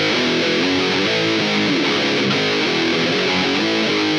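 A heavily distorted electric guitar runs through an amp with an overdrive pedal used as a clean boost, chugging a loud, dense nu metal riff with a thick low end.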